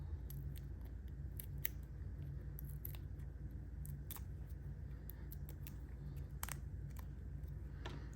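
Scissors trim paper for a homemade recipe cookbook in a run of quick, faint snips and small crisp cuts, irregularly spaced over a low steady background hum, close and quiet, with no talk.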